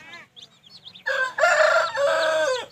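A Kaki Nemali fighting rooster with knife-style legs, about 3.5 to 4 kg, gives a few soft clucks, then one loud, close, drawn-out crow that rises and holds before trailing off.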